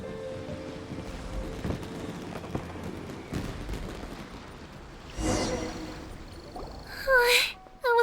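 Fireworks bursting in the Inazuma region of Genshin Impact, a few scattered booms and crackles over a rushing, wind-like background, with a louder burst and whistling trails near the end.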